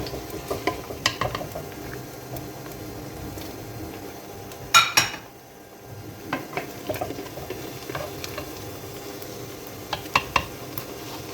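Onions go into a pan for a Bohra chicken palak dish, a faint sizzle under scattered clinks and scrapes of a stirring spoon, with one brief loud clatter partway through and no talk.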